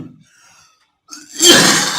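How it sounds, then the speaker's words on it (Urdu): A single sharp cough from someone narrating a religious story, abrupt and close, following a faint breath and near silence, heard alone without speech. "فقیر کی طبیعت کچھ ناساز ہے، بار بار کھانسی کا غلبہ ہوتا ہے"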